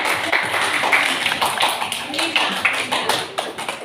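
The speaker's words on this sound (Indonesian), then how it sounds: "beri aplaus untuk kelompok" Classroom applause for a student group, dense rapid clapping from many hands filling the room steadily throughout, fairly close, with some voices mixed in.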